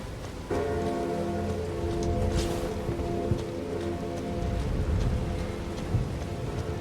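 The Rain of Stars spell in the video game Elden Ring sounds as a steady hiss of falling projectiles like heavy rain, with scattered sharper impacts and low rumbling underneath, continuous and moderately loud.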